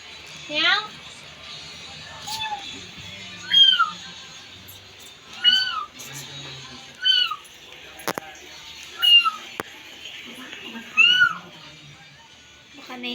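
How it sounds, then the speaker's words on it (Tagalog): Cats meow again and again while a search goes on through a house, about seven distinct rising-falling cries spaced a second or two apart, fairly close and clear, with faint background sounds between them. "Hanap namin yung mga pusa dahil nawala sila."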